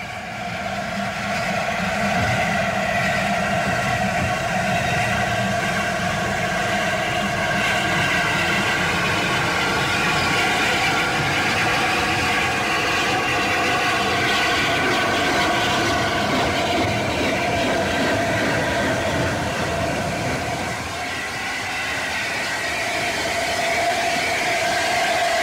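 LNER Class A4 steam locomotive Mallard backing onto its train, with the corridor tender attached: a continuous, steady rail rumble and hum lasting the whole stretch, fairly loud and close, with no talk.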